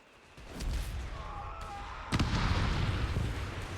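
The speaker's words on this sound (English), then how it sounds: "Looks like a satchel was blobbed there." A satchel charge going off in Company of Heroes 3 gives a sharp, loud blast about two seconds in. Busy battlefield noise and other impacts run before and after it.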